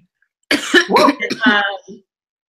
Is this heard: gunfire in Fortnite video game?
no